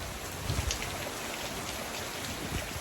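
Steady summer-storm rain falls on a farm with duck and chicken pens and a partly roofed building, a dense continuous hiss of drops with a few heavier patters near the start and end, no voices.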